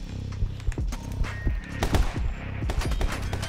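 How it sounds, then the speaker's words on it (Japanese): Shotgun blasts and gunfire in the action game My Friend Pedro come as a rapid run of sharp, loud reports with busy music and game effects, the shots crowding closely over one another. "ショットガンだな。"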